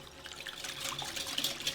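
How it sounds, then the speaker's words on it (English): Milk poured into a bowl of popover batter made with room-temperature eggs, a close, continuous splashing trickle that builds slightly toward the end. "We'll just pour in that milk"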